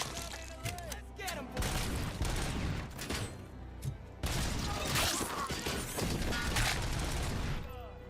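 Sustained gunfire from a RoboCop video game rattles continuously under chaotic game sounds with booms and crashes, while someone talks over the action.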